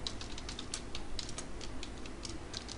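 Java exception-handling code is typed on a computer keyboard, a quick, steady patter of close key clicks over a constant low background hum, with no voices.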